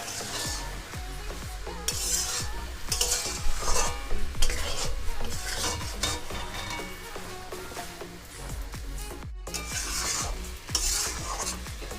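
Tarka dal being stir-fried with spices in a pan for an egg tarka, with steady sizzling and repeated scraping and stirring strokes of a spoon against metal, close and continuous.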